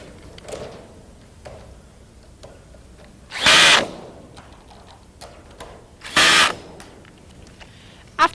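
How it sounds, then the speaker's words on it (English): A cordless power drill with a Phillips head drives bolts on a round above-ground pool, giving two loud, short whirring bursts about three seconds apart over quiet background ticks. "fasten them securely using a cordless power drill with a Phillips head"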